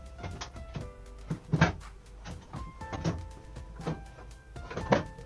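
Several cabinet doors in a Class C motorhome are pulled open one after another, each giving a short knock or clack, spaced about a second apart in a quiet room.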